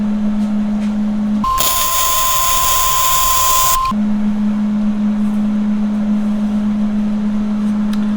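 Welding on a Dana 30 axle tube, a steady loud crackling hiss lasting a couple of seconds over a constant low electrical hum that continues before and after.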